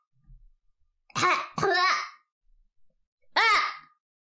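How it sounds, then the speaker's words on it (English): Three harsh coughs from a young woman, two close together and one after a pause, loud and near with quiet gaps between, no talk. "I've been coughing for the past 4 minutes."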